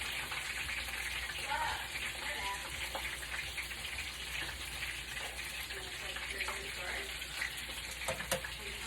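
Turkey wings frying in oil in a frying pan, a steady dense sizzle and crackle with scattered pops, continuous and close throughout.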